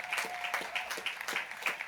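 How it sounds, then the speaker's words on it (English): Applause for graduates at a graduation ceremony, a steady, moderately loud patter of many hands clapping with no voices over it. "A final round of applause, please, for our now graduates from Galloway House."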